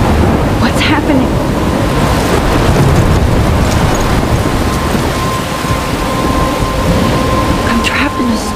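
Thunderstorm in the Life Is Strange video game: dense, steady rain hiss with low rolling thunder rumbling throughout, loud and close, with faint voice-like sounds under the storm.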